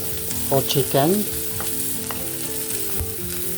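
Leftover chicken pieces and beef skin fry in a pan with a steady sizzle while being stirred, and several sharp tonal squeaks and scrapes stand out early before the sizzle settles, with no voices.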